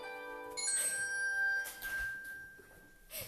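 A phone notification chime rings out in a few short, bright tones, with a sustained high ring in the middle and a quick ding at the end, fairly clear over quiet room ambience.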